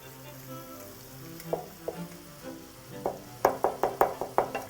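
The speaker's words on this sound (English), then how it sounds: "So I'm just going to gently scrape away whatever's stuck to the bottom." Spices and food stuck to the bottom of a pan are scraped away with a utensil, giving a series of sharp, close scraping strokes that quicken toward the end over a quiet cooking sizzle.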